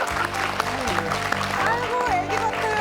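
Studio audience at a Korean TV talk show clapping in sustained applause, loud and close, with a host's voice talking over it throughout.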